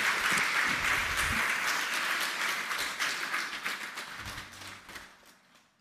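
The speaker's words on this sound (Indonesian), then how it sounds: "berdiri, kita tepuk tangan dulu." A church congregation stands and applauds visiting guests from Ambon, a full, dense round of clapping that gradually tapers off toward the end.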